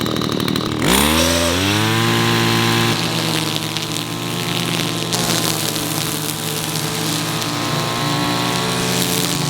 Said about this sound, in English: That right there is a successful weed whacking session.